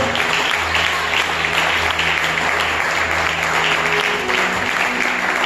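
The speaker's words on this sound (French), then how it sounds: "Tu devais acclamer avec force et foi." A church congregation applauds and acclaims the Lord, a loud, dense, continuous wash of clapping that holds steady throughout, with faint voices mixed into the crowd.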